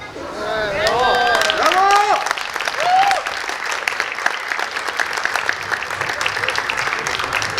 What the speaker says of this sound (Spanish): les pedimos un fuerte aplauso para los novios